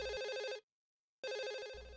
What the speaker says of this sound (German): Irgendwo klingelt ein Telefon.